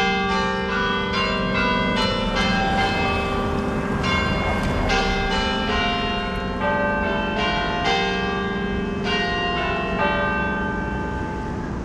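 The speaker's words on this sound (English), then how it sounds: "that was the longest bell ring I've ever heard. From a clock" A clock tower bell in Lisbon, Portugal tolls on and on, loud, resonant strikes repeating roughly every second and overlapping in a long ringing wash, with no voices over it.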